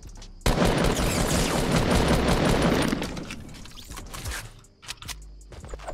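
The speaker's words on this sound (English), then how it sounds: "The hell is shooting over here?" Sustained automatic gunfire in the video game Fortnite Battle Royale: a dense, loud burst of rapid shots for about three seconds, then tapering into scattered bangs and mechanical clicks, with no speech over it.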